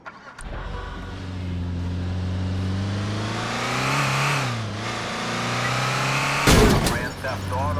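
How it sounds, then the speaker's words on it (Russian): A heavy van in GTA Vice City revs and accelerates hard, its engine pitch climbing steadily with gear changes. A sharp impact-like burst comes near the end, while a voice talks over it. "Попробую я, наверное, взять вот этот фургон, он потяжелее, дабы как следует разогнаться, чтобы, собственно, въехать в ту машину"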